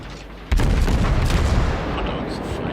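A salvo from the guns of the Tier 8 US cruiser New Orleans in World of Warships, a sudden loud boom followed by a rumbling, crackling tail that slowly fades.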